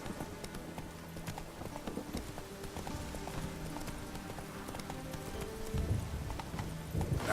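Roach, a horse in The Witcher 3, clip-clops along at an easy walking rhythm, hooves thudding steadily over a layer of ambient game sound and faint background music.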